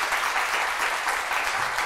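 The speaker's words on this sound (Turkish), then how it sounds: "bu alkışlar onlara gitsin" Studio audience of a Turkish daytime talk show claps in a brief, even wash of applause, loud and sustained with no voices over it.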